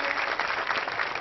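Steady, dense applause from an audience honouring award recipients at a centenary celebration, continuous and fairly loud with no voices over it.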